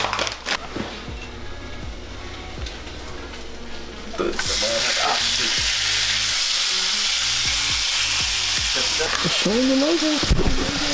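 Ground turkey with Montreal and taco seasoning hits a hot pan, and a loud, steady sizzle takes over after a few quiet seconds of handling noise, continuing under occasional talk.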